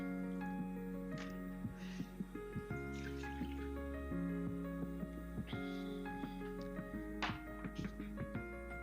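A cup of balsamic vinegar is poured straight into a pot, giving a faint, quiet trickle with scattered drips over a low steady hum.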